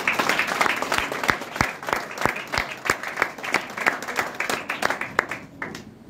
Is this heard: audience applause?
yes